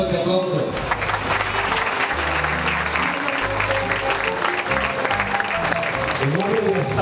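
An audience at a San Salvador municipal event applauds a muralist, dense continuous clapping that stays loud throughout while a voice speaks over it.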